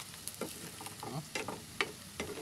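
Chicharon pork rinds frying in a pan, soft crackling pops and sizzles scattered irregularly at low volume with no voices.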